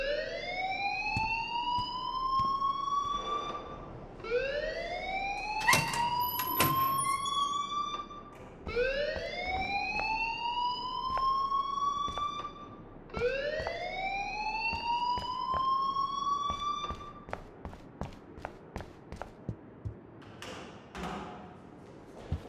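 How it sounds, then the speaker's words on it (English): Alarm ringing in Life is Strange: a loud electronic siren sweeping upward in repeated rising whoops, four in a row, followed by a string of sharp rhythmic thuds as the wail stops. "please turn off that alarm since that's your job"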